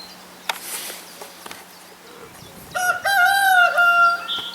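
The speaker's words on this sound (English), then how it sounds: "Sorry about the chickens guys, this is the part of being on a farm." A farm rooster crows loudly and close by, its call rising and sustained over the last second and a half, after a stretch of quiet background with a few faint knocks.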